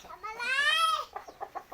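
A Thai fighting rooster at a large cockfighting arena lets out one close, loud, rising crow, followed by a short run of choppy clucking pulses.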